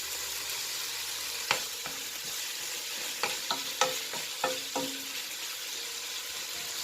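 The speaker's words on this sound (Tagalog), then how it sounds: "halo-haloin uli natin. Hanggang sa maluto po yung kamatis." Pinakbet vegetables with tomatoes are stirred in a pan over a steady frying sizzle, with a few sharp spoon scrapes and clinks scattered through the middle.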